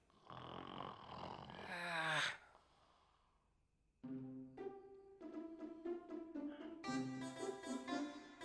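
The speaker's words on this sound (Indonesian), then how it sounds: "Ini kebo ngorok kayak kenceng banget." Loud snoring from a sleeper in an Indonesian comedy cartoon, a long rasping inhale that rises into a snort, a pause, then a run of throaty, buzzing pulses.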